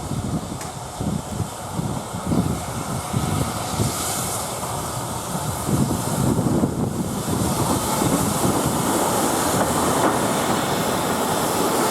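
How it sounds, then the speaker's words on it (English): The visiting steam locomotive Bradley Manor runs light engine on a heritage line, its rhythmic chuffing and steam hiss rolling past under heavy wind noise, growing steadier and louder as it goes by. "Visiting steam loco Bradley Manor now heads back towards Loughborough on a light engine run"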